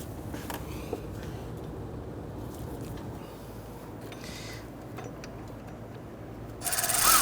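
A ratchet works on a bolt of a power steering pump in a 2008-2013 Infiniti G37, faint rapid clicking over a low background hum, with a louder rustle at the very end.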